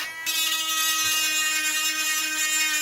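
A steady, high-pitched whine from a power tool runs continuously, loud and close, as it sands resin.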